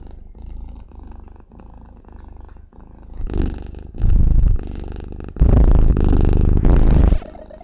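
A cat purrs loudly in close-up, the rumbling purr starting steady and soft, then swelling into several strong, raspy bursts toward the end.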